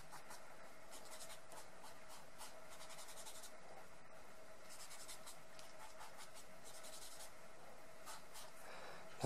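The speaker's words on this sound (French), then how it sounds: "Avec la gomme de pain." Kneaded eraser rubbed over a pencil drawing on paper: very faint, soft scrubbing strokes in repeated short bursts, close and quiet, with nobody talking.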